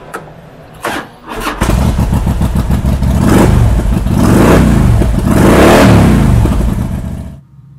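A 2006 Harley-Davidson Street Glide FLHXI with a 96 cubic inch twin cam engine: a few clicks, then the engine cranks and fires, settles into a loud rumbling idle, and is revved twice in swelling throttle blips before cutting off.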